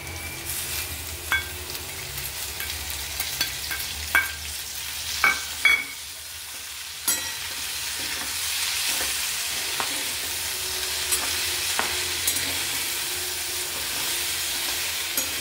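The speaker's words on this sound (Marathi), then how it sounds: "हे बघा, छान बटाटे शिजत आले आहे, अर्धे शिजले आहेत। आपण आता पालक ॲड करू त्यात।" Potatoes and spinach for a Marathi aloo palak bhaji fry with a loud, continuous sizzle, broken by occasional scraping knocks of a spoon stirring the pan, close by.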